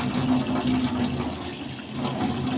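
Running water splashes steadily as a woman rinses her face with water at a faucet, a close, continuous wash of liquid sound with no talking.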